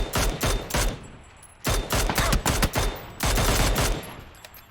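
Bursts of automatic gunfire in PUBG during a competitive pro scrim match, three clusters of loud rapid shots with brief pauses between, no talking.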